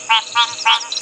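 Frogs croak from inside a small pan at night on a game reserve safari drive, three loud, buzzy calls in quick succession, close and clear over a quiet background.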